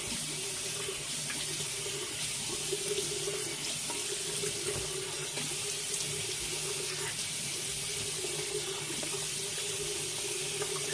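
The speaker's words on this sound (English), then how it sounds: "while the cold water's running, I'm going to throw that on my face" Steady rush of tap water pouring into a sink, continuous and close, with no voices.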